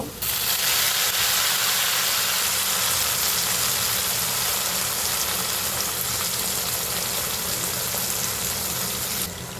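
Lentils (dal) hit a hot pan of cumin-tempered oil, giving a loud, steady hiss and sizzle that starts abruptly and holds evenly for about nine seconds before cutting off, close and without speech.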